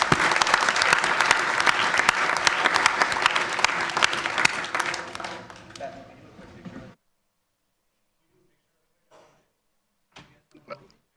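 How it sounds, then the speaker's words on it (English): A room at a La Grange village board meeting breaks into loud, dense applause for the parents, holding for several seconds before tapering off and stopping, followed by near silence with a few faint rustles. "let's give a round of applause to all the parents here"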